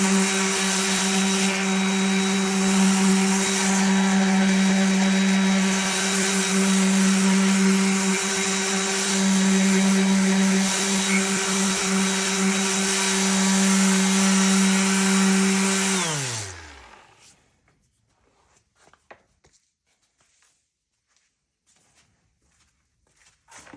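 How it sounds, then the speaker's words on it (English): A power sander runs steadily at full speed, smoothing bumps off an epoxy coffee tray, then winds down and stops, leaving a few faint handling knocks afterward. "But we've got to sand these bumps off too."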